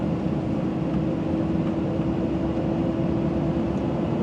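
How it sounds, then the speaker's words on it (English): Truck holding its speed on a steep descent toward Abercrombie River in NSW with the exhaust brake on: a constant low, droning engine roar with a steady tonal hum, loud and unbroken throughout. "the exhaust brake is holding us at 20"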